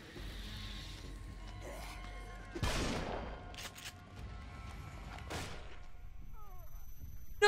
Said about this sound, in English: And now I'm getting shot at.